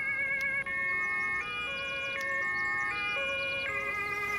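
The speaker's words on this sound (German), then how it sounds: "dann fahren wir halt mit diesem etwas eher nicht so geilen Martinshorn" An emergency vehicle siren in the Emergency video game, a loud two-tone electronic wail alternating steadily between high and low pitches without pause.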